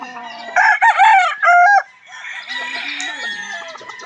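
White fighting roosters crow loudly and close, two drawn-out calls in quick succession with clucking in between, no talk.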